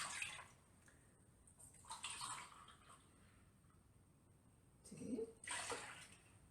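Milk poured from tins in a home kitchen makes quiet, intermittent splashing pours, a few separate bursts with short gaps, faint and close.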